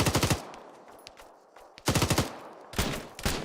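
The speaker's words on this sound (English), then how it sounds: "they are returning fire on us. They're on the HMG on the Jeep." Heavy machine gun mounted on a jeep in the Arma video game fires in three loud rapid bursts, separated by short quieter gaps, close and dominant.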